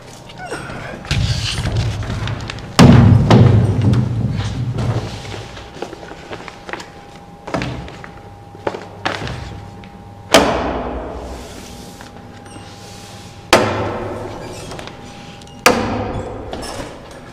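Indoors at night on a house under construction, a hammer drives wall studs into place: four or five loud, sharp blows spaced several seconds apart, with softer knocks, thuds and shuffling footsteps in between.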